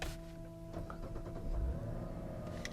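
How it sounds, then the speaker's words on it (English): A 2024 Mazda CX-90 electrified flagship SUV starting up: a chime with a slightly whiny engine note rising at startup, heard close from inside the cabin with no talking. "when the vehicle starts up, you can hear it has the typical Mazda chime, and the engine itself is a little whiny at startup"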